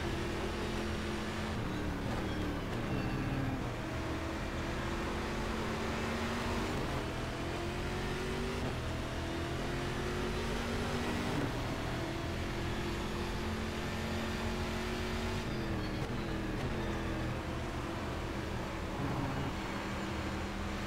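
Stock car racing on the Cascavel track in the video game Game Stock Car 2012, a constant engine drone with pitch rising and falling through gear shifts and corners, loud and continuous with no voices.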